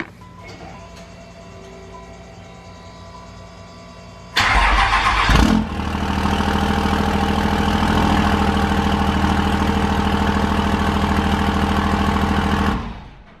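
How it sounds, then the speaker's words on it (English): A 5.9 Cummins diesel in a third-generation Dodge Ram pickup, with a 5-inch exhaust and axle dump, cranks over and fires up with a roar, then settles into a loud, steady, rumbling idle before cutting off. "I'll get a little sound clip of what the truck sounds like with the axle dump."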